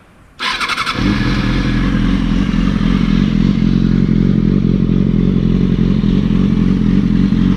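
A motorcycle engine with a new exhaust cranks and fires up with a brief clatter, then settles into a loud, steady, rumbling idle with slight revving.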